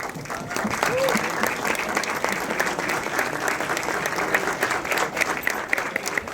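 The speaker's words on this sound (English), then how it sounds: "give them all a big round of applause, ladies and gentlemen" Applause from an audience at a Hindi film trailer launch event, honoring the assembled stars; dense, steady clapping fills the room for several seconds, loud and continuous with some crowd noise beneath.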